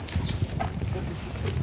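A donkey's hooves clip-clop on the ground of a ranch corral as she is driven forward from behind during training, steady irregular footfalls close by, with speech in the background.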